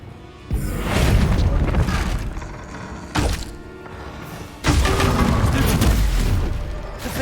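Bombarda spell blasts in Hogwarts Legacy: three loud, booming explosions, each a sharp onset followed by a sustained rumbling roar, close and heavy, with no talking.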